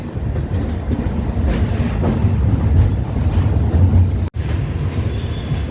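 A passenger train rolls across the long rail-road bridge at Vijayawada, giving a loud, steady rumbling roar with a rhythmic clatter of wheels on the track and a brief dropout near the end.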